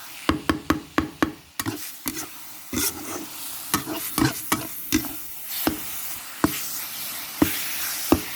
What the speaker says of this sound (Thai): ัดให้แห้งเลยนะผัดให้แห้ง